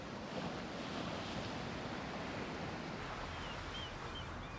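North Sea waves and wind on the coast at Harwich before a gale, a continuous broad roar of surf with gusting wind buffeting the microphone, steady and unbroken with no voices.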